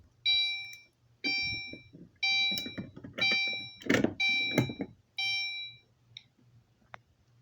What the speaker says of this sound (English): first I key activated and I pull the alarm.